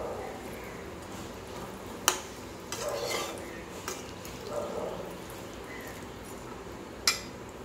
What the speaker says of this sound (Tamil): இப்போ வேக வச்ச பட்டாணி அதில் ஊற்றிக்கலாம்.